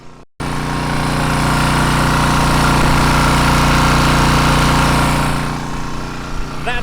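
Engine-driven pump runs loud and steady close by while drawing water out of a manure pit, a constant mechanical drone that cuts in abruptly and eases slightly near the end.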